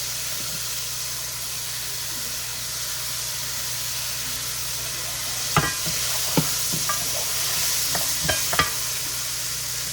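Brussels sprouts and vegetables stir-frying in a pan, a constant sizzle and hiss with a few sharp clinks of a utensil against the pan partway through.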